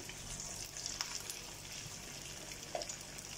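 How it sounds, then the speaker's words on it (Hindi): Rice and vegetable kababs deep fry in hot oil with a quiet, steady bubbling sizzle, faint and continuous, with a couple of soft taps. "और मैं डीप फ्राई कर रही हूँ"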